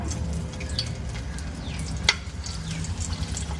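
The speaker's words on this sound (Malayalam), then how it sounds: "എണ്ണയിലോട്ട് ഈ മുളക് ഇട്ട് കൊടുക്കാം" Curd-soaked sun-dried chillies dropping into hot oil and frying, a steady near crackling sizzle with a brief sharper pop partway through, no talk.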